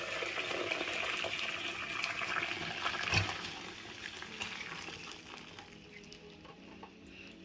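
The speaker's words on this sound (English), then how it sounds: "Use a mesh strainer to strain our broth so we can get all of the pulp and big chunky pieces of veggies out." Chowder broth pours through a mesh strainer with a steady, fairly quiet splashing wash of liquid, a brief clunk midway, then tapering off toward the end.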